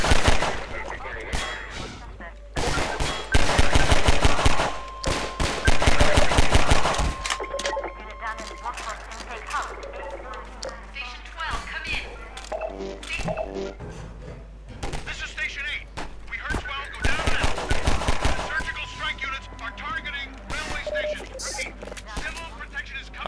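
Half-Life 2 gunfire: rapid bursts of automatic shots and sharp single cracks, loud and close, in dense volleys separated by quieter stretches, with someone talking between them.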